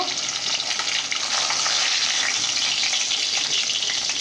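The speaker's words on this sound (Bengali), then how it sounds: "মাছগুলো ভালোভাবে ভাজা হয়ে গেছে তুলে নেব" Fish pieces frying in hot oil in a pan for a fish curry, a steady, dense sizzle running unbroken and fairly close, with no voices.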